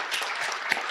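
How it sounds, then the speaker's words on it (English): Audience applause after an on-floor MVP interview, a steady dense wash of many hands clapping at moderate, fairly distant level for the full second, with no talk over it. "Let's give them a round of applause."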